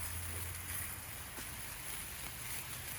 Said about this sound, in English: I'm watering that old tomato plant that doesn't look so good.